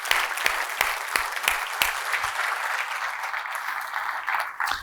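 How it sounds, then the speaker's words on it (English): Conference audience applauding at a future-of-work event, a dense steady wash of many hands with a few sharper individual claps standing out early, fairly close and alone without talk. "Can I please get a round of applause for all these fantastic folks?"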